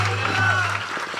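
A short burst of applause from a church congregation during a sermon, mixed with a preacher's voice speaking over it.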